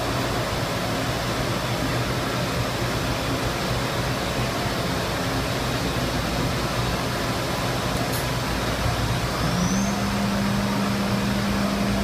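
A 5-axis machining center spindle runs at 12,000 RPM with a loud, steady broadband whir and a high hum. Near the end a tone rises and then holds.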